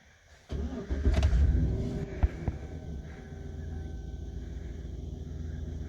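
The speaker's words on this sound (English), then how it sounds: "So we're back in the truck now, and we're going to turn it on" A Chevrolet Silverado 4x4 pickup truck engine cranks and catches, rumbling up loudly before settling into a steady idle nearby.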